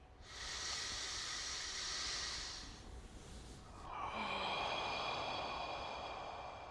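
A slow diaphragm breathing exercise for relaxation: one long, loud, hissing breath in, a brief pause, then a second long, airy breath, close to the microphone with no talking.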